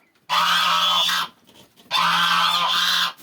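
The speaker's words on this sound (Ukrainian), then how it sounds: "Гуси." Two long, loud nasal honks from geese close by, separated by a short pause.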